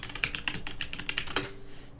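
Rapid clicking of a computer keyboard as a command is typed during a SA-MP game session, a quick irregular run of close keystrokes ending in one sharper key press.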